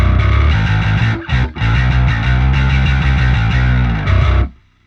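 A heavily distorted modern metal bass guitar tone with an added sub layer, loud and sustained with two brief gaps between notes before it cuts off, played alone with no talk.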